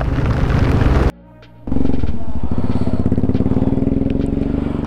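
A Zontes motorcycle rides through heavy monsoon rain, its engine a loud, steady rumble with rapid pulsing, interrupted by a brief near-silent gap before resuming under a constant wash of wind and rain.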